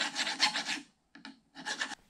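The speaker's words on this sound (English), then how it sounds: "I'm just going to take a file and quickly make sure there are no remaining burrs at the top of the spindle" A hand file rasping across the top of a Bridgeport milling machine spindle to remove burrs, heard as three short close strokes with brief pauses between them and no talk.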